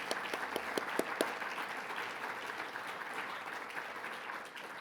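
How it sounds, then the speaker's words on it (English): An audience at a law school dedication event gives a round of applause, a steady dense wash of many hands clapping with a few sharper claps near the start, continuing evenly before tapering slightly at the end. "So please join me now in welcoming all the speakers with a round of applause."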